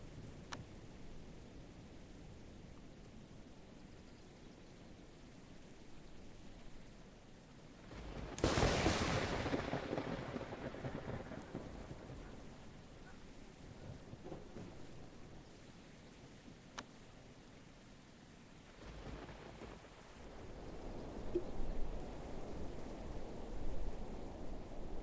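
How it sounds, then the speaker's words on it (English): Rain hisses steadily in the video game Amazing Cultivation Simulator, broken by one sudden loud thunderclap that rumbles and fades over several seconds, with the rain swelling again near the end. "It is now raining all the time."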